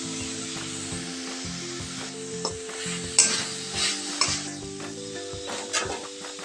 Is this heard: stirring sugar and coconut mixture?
yes